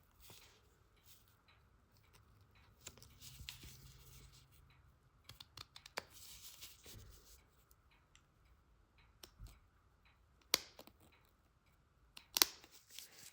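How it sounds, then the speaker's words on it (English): Scissors snip through perforated paper while an ornament is being finished, giving quiet, close, irregular clicks and cuts in short bursts with pauses between them. "So if I go ahead and snip these pieces here, when I come back, as you can see, it's easier, just go ahead and snip through."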